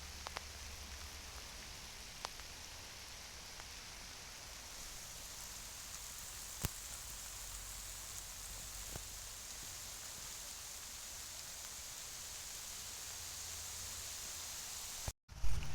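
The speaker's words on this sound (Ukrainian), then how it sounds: "А ось і дощик пішов." Heavy rain pours steadily in an outdoor garden centre, a dense continuous hiss with occasional louder drops hitting nearby surfaces, holding throughout before cutting off at the very end.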